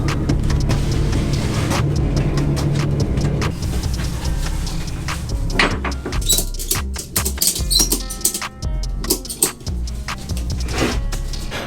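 A Chevy Traverse SUV towing an enclosed motorcycle trailer rumbles along with steady road and engine noise, then rattles and clunks irregularly as it moves over bumps, close and fairly loud.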